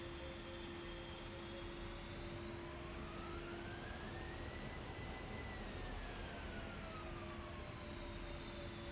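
An A-10C jet in a flight simulator game taxis with a steady, loud engine whine and turbine tones that slowly rise and fall in pitch, continuous throughout with no talk.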